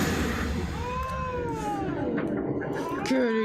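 A cat in The Witcher 3 video game meows in long, wavering calls, loud and close, with a drawn-out caterwaul rising near the end.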